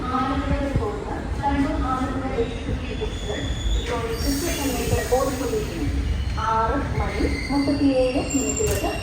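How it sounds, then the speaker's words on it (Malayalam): The Mangaluru Express pulls out of Kozhikode railway station with a steady low rumble and rattle heard from inside a sleeper class coach, while someone talks over it throughout. "അങ്ങനെ കോഴിക്കോട് റെയിൽവേ സ്റ്റേഷനിൽ നിന്ന് നമ്മുടെ ട്രെയിൻ എടുത്തിരിക്കുകയാണ്"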